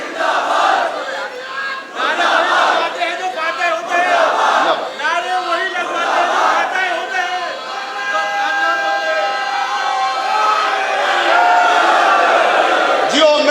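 A large crowd in a hall chants the Haider Haider slogan together, loud rhythmic collective shouting that continues in waves throughout.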